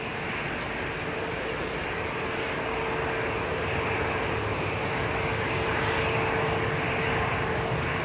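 A Boeing 787 jet airliner taxis at London Heathrow, a steady, broad engine roar with a thin sustained whine running evenly throughout, moderately distant and without interruption.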